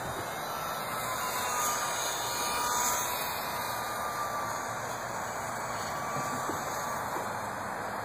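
A homemade Micro Telemaster RC model airplane with monocoque wings and an electric motor flies at about half throttle, giving a steady whirring drone heard alone and fairly constant, rising slightly as it passes.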